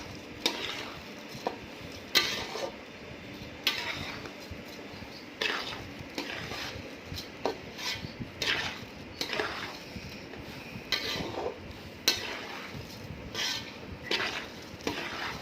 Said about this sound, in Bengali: চালটাকে ঘি, কাজু, কিশমিশ এর মধ্যে ভালো করে একটু নাড়িয়ে চাড়িয়ে নেব, খুব ভালো করে নাড়াতে হবে।